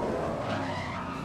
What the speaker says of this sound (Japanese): ちゃんと車が転がらないで滑っちゃうんだよね